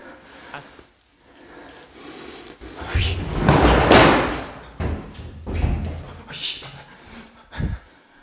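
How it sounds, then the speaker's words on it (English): Loud thuds and bangs of a door knock and slam repeatedly at close range, irregular in rhythm, with one heavy crash standing out. "he heard a loud bang of the door"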